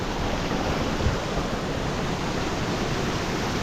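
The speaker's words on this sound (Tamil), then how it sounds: "போயிட்டே இருக்குப்பா ரிவரு." River water rushes steadily near hidden waterfalls in Valparai, producing a constant broadband roar with no pauses, fairly close and filling the scene on its own.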